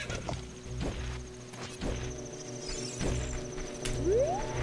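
Epona the horse trots in Zelda: Master Quest, her hooves striking in a steady clip-clop rhythm at close range, with a rising whinny-like tone near the end and no one talking.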